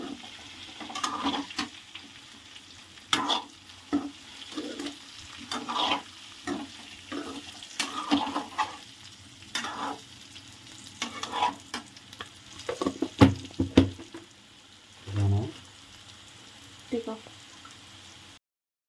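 Bitter gourd frying in a pan with coconut chili powder, a steady low sizzle with intermittent stirring scrapes and clanks, moderately close, with a few louder knocks near the end.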